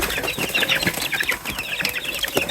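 Busy chorus of 37-day-old chicks and young hens clucking and peeping together, steady and fairly close, with scattered chirps layered over a constant flock murmur.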